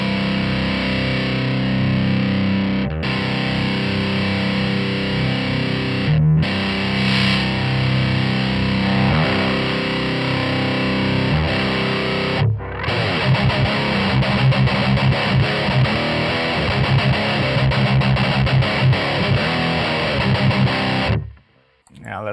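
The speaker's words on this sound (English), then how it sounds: "Here, for example, I want to try out some high gain stuff." High gain distorted electric guitar through the Overloud TH-U amp simulator, with dense, harsh chugging riffs and sustained crunchy chords, loud and continuous with short gaps between phrases, stopping abruptly near the end.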